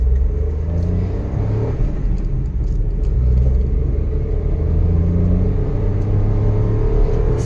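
A Maruti Alto K10 small hatchback accelerates during a top speed run with the air conditioning on. A steady engine drone and heavy road rumble fill the cabin, continuous and loud, with no pauses.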